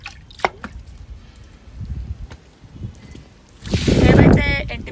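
Diluted liquid fertilizer water poured onto dry, sun-parched garden plants, a loud close splash and trickle swelling near the end after quieter drips and light background sounds.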